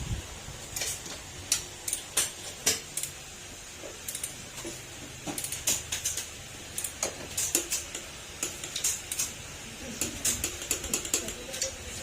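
A torque wrench clicks repeatedly while a car's tensioner is tightened: sharp, close ticks in irregular bursts with short pauses, and a faint background hum underneath.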